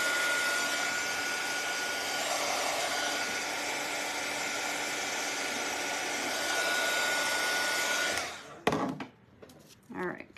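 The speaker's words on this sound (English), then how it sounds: "I'm gonna hit this with the dryer." A heat gun or hair dryer blows steadily on freshly painted edges of a wooden tiered tray, a loud continuous whooshing hum that runs about eight seconds before cutting off, followed by a few faint handling clunks.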